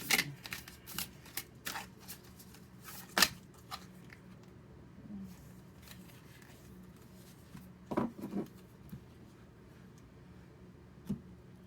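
An Earth Warriors oracle card deck is shuffled close by in a quiet room, producing scattered riffling bursts and soft card slaps separated by pauses, with no talking.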